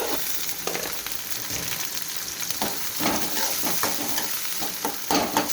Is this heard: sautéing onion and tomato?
yes